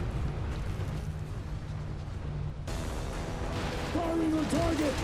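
Sustained gunfire and rumbling combat from the video game Outriders, a dense continuous roar of shots and blasts during a boss showdown with a cultist leader, loud throughout, swelling brighter halfway, with a radio-style voice calling out over it.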